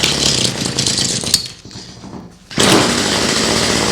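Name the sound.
2-stroke gasoline hedge trimmer engine running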